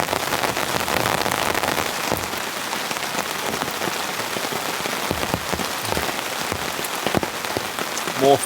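Heavy rain drums steadily on a tarp over a solo campsite, a dense, continuous patter with scattered louder drops and no voices.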